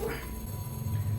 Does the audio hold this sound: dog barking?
yes